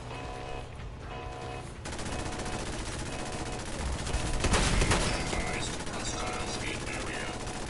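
Rapid video game gunfire keeps going for the whole stretch, a dense crackle of shots that builds to a louder burst near the middle and then settles back to a steady clatter. No voices are heard.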